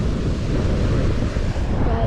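Strong wind roars across the microphone beside a fast-flowing mountain stream, a loud, continuous rushing with no break.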